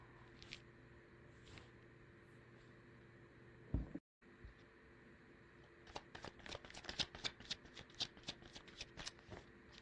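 Tarot cards shuffled and handled close up, quiet soft riffling and flicking, with a brief pause, then a quick run of crisp card snaps.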